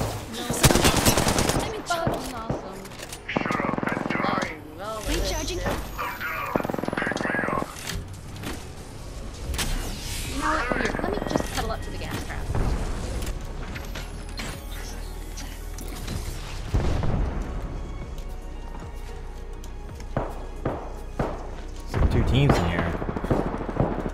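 Dense automatic and single-shot gunfire in the Apex Legends battle royale game, loud and near in rapid bursts throughout, with a player's voice talking over the shooting.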